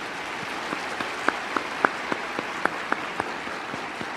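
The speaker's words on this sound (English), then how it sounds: "Continue to clap for Jesus." Sparse, slow audience clapping at a convention, distinct individual claps spaced roughly a third of a second apart over a soft background hiss, moderately close.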